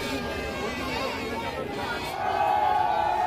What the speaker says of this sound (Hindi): कितना भीड़ देखिए दोस्त